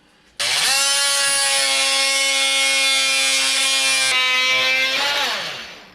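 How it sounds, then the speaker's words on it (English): A small multi-tool trims plastic on a Traxxas X-Maxx RC truck, giving one steady, loud, high-pitched whine that holds for about four seconds, shifts pitch slightly, then winds down. "I'm going to grab my little multi-tool here"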